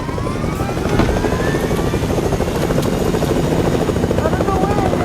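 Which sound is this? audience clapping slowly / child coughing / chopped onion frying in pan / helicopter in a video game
helicopter in a video game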